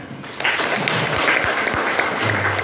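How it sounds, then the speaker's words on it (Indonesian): A short burst of applause from a group of teachers at a training session, steady clapping filling the room for a couple of seconds. "Oke, tepuk tangan."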